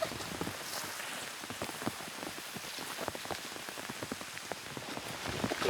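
Rain falls steadily on surfaces outdoors in a deer habitat near Rimouski, a dense, even patter of drops throughout, fairly soft.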